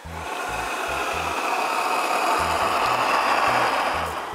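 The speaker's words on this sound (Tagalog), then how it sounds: "I-on na po natin yung blower." Blower fan forcing air into a used motor oil burner flame, a steady loud roaring whoosh with broadband rush, with a low rhythmic pulsing thump underneath throughout.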